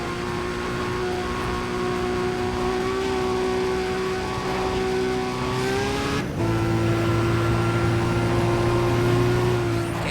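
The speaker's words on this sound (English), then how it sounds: "Man, I am in love with the sound of this car" Race car engine in the video game Need for Speed ProStreet, a loud sustained whine climbing through the revs, a sharp gear shift, then a steady high drone at speed.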